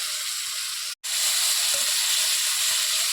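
Food sautéing in a pan with added salt and spice powder for a homestyle Bengali egg dish, a steady close hiss of sizzling oil broken by one brief dropout and faint stirring taps, no voices.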